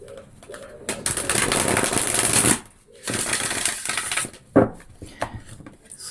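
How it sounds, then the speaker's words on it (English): A deck of tarot cards is shuffled by hand in two long, loud, rustling bursts with short pauses, followed by a few quieter card handling sounds close by. "let me give these a shuffle"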